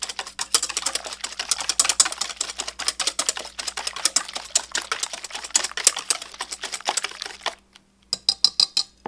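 Omelette ingredients are whisked in a bowl with white cooking wine, giving fast rhythmic clinking and tapping of utensil against the dish, steady and close, then a brief pause and a few final taps.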